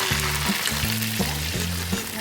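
Prawn 65 crackles in hot oil with a steady, dense frying sizzle, close and loud, joined by a low repeating hum from the stove or fan and no voices.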